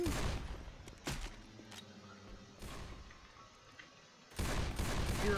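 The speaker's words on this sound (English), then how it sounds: "Going with machine gun." Bursts of machine gun fire in the Left 4 Dead 2 zombie campaign, several loud rapid volleys separated by short quieter gaps, the final burst sustained to the end.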